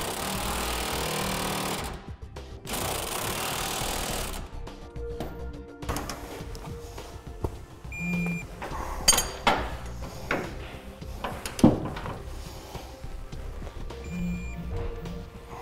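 Hitch bracket fasteners on a 2013 Ford F-350 Super Duty gooseneck hitch install being tightened, opening with a loud sustained impact-wrench burst, then a ratchet clicking and metallic clinks and taps, close and without talk.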